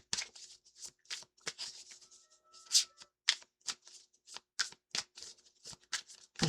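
Tarot cards being shuffled by hand, a quick series of crisp riffles and soft slaps in an irregular rhythm, close and fairly quiet with no voices.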